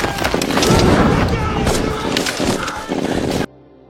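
Enemy gunfire in a World War Two war film crackles in dense, loud bursts of rapid shots with scattered louder cracks, continuing for about three seconds before cutting abruptly to near silence.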